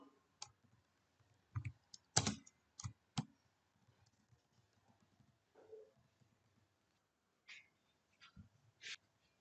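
Keys on a computer keyboard are struck in sparse, irregular clicks and short clusters, close and quiet against a near-silent background.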